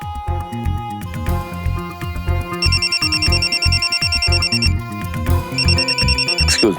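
A telephone rings with repeated bright electronic trill bursts over a loud dramatic music score in an Indian crime drama scene, with no talking.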